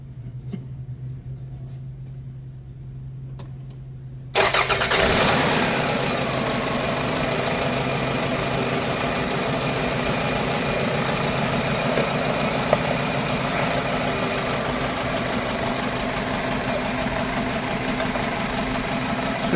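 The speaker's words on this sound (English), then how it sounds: "Let's start a car and see what we get." A car engine cranks and catches after a few seconds of quiet, then settles into a steady, loud, close idle with an even mechanical hum and slight knocking texture during a catalytic converter test.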